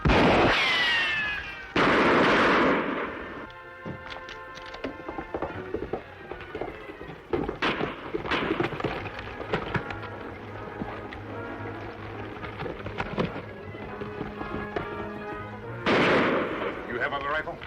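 Gunshots ring out in a radio drama: a few sharp, loud reports with ringing mechanical echoes, set among voices and tense background music, with another burst of shots near the end.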